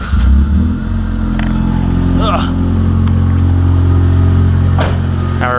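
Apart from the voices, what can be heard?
Toyota AE86 engine starting and revving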